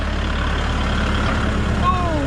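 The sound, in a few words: tractor engine running on a farm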